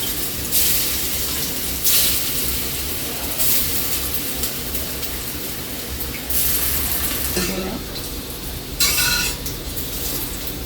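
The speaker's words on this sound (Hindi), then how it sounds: "इसको हल्का ही फ्राई करेंगे।" Taro leaves frying in hot oil in a kadai, a continuous close sizzle broken by periodic bursts as the leaves are moved or turned, loud and steady throughout.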